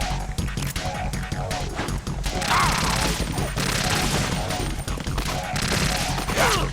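Rapid bursts of gunfire blasting an enemy in Metal Gear Solid 2 on PS2, loud rattling automatic shots with impact crashes and a short game sound effect mixed in, continuing through the whole stretch.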